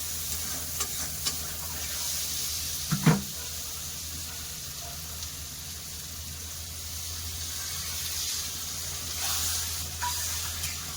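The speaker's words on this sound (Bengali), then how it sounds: "দেখুন, এবার এর মধ্যে আমি পরিমাণ মতো জল দিয়ে দেবো।" Water being added to potato curry that has been fried in oil with spices: a steady hiss and sizzle in the pan with a few light clinks and a brief louder splash and stir partway through.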